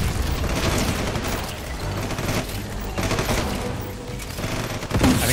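An AI enemy's gun in Red Solstice 2 fires in sustained rapid bursts, a dense loud rattle of gunfire blended with booming game effects throughout.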